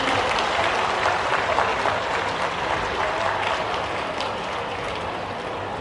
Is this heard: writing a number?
no